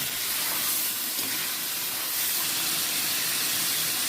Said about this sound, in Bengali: এবার টমেটো দিয়ে অনেকক্ষণ ধরে ভেজে নেব